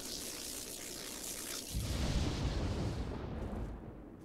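A Scourge machine blows up in World of Warcraft, a low rumbling blast that swells midway and rolls on as a dense, steady roar before thinning out, with no voices over it.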